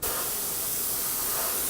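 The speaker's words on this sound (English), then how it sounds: "Make sure I'm spraying okay." Airbrush spraying green primer onto a BT-7 model kit, a steady close hiss of atomized paint running continuously without pause or voices.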